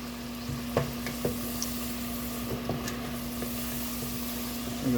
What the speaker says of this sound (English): And the second time you fry them, make sure the oil is hot again.